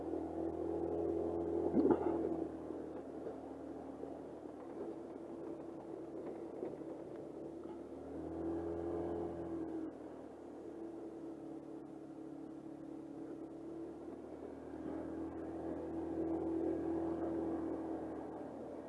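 Engine of an Icebear 150cc motor vehicle while riding down a paved road onto some dirt, a steady low drone that swells and eases slightly, heard from the rider's position with no talking.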